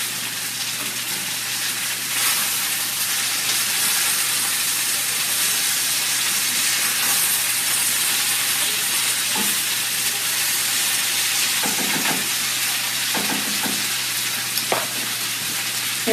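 A bacon jalapeño hash sizzles steadily in a hot pan while it is stirred, with a constant hiss and a few scraping clatters of the utensil near the end, close and without talk.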